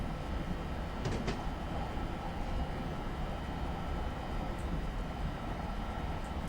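A North Jersey Coast Line train rolls along steadily in Train Simulator, a continuous low rumble with faint rail noise and a couple of brief clanks early on.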